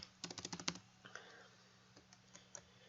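Rapid burst of computer keyboard keystrokes, clicking in quick succession for under a second, then a few scattered, fainter key taps; close and fairly quiet, with no talking.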